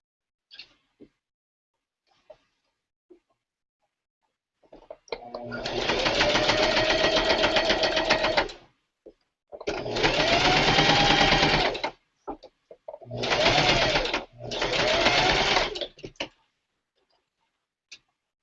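A sewing machine stitches a seam in three long runs and a short pair of bursts, its needle chattering steadily and close, separated by pauses with faint clicks.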